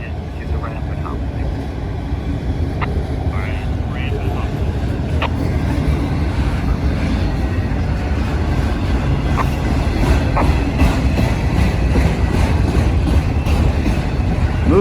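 A freight train with auto racks rolls across a bridge in a loud, continuous rumble with faint wheel clatter, while voices are heard now and then.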